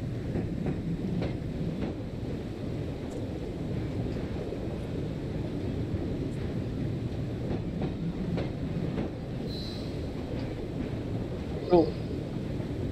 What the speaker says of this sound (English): Thankfully, this train is going to take us right there.